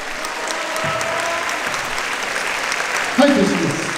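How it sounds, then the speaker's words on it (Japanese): Sustained applause from the audience at a YOSAKOI Soran Nihonkai dance festival in Hikone, a steady dense wash of clapping throughout with a voice briefly audible under it near the end. "じゃあ旗の皆さんに大きな拍手をお願いいたします"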